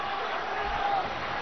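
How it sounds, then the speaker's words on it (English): A steady, dense roar from the arena crowd in the WWE'13 wrestling video game, continuous and unbroken over a brief moment. "Would you listen to this crowd show their appreciation for these amazing competitors?"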